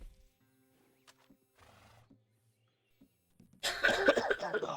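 Horse whinnying in the video game Red Dead Redemption 2: a few faint, scattered sounds over near silence, then a loud, harsh neigh bursting in near the end and running to the close.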